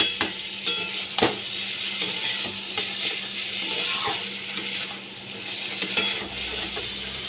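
Ridge gourd and potatoes frying with turmeric and Kashmiri chili powder in a pan, a steady close sizzle broken by repeated scraping stirs and clinks of a spatula, with no talking.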